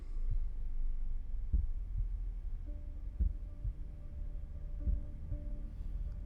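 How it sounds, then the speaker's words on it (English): Heartbeat sound effect with slow, deep thudding pulses at a steady rhythm, paired beats recurring about every second and a half, under a low sustained hum. "Any heartbeat effect is gonna get my blood pressure up,"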